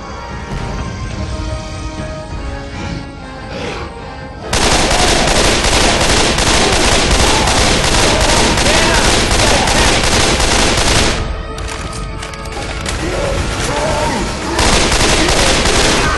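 Sustained bursts of automatic gunfire and rapid shots in the Left 4 Dead 2 video game, loud and dense, with a short lull partway through before the firing resumes.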